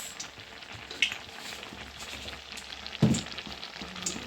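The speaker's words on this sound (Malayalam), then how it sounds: "നെയ്മീൻ ഫ്രൈ ചെയ്യാൻ പോവാണ് ഗൈസ്" Kingfish frying with turmeric in a pan, a quiet continuous sizzle broken by a couple of louder pops and spits, close by with no talking.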